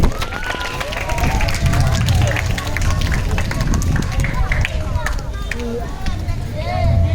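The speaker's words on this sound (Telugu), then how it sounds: "పిల్లలందరూ వేడిగా చప్పట్లు కొట్టాలి" Children at a Children's Day gathering clapping and applauding, a dense patter of claps running throughout beneath lively chatter and voices.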